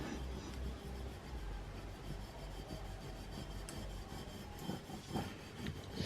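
A squeegee rasps back and forth over a transfer laid on a cutting board, a close, quiet scraping rub that repeats steadily with no talking.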